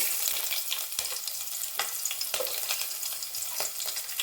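Cinnamon and green chillies frying in ghee for ghee rice, a steady bright sizzle with crackling pops and spoon stirring at several points, close and continuous, no voices.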